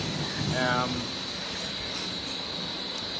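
Air compressor and vacuum pump running in a new swing-over milking parlour, a steady mechanical hum with a constant high whine, moderate and even, with a brief louder rumble near the start.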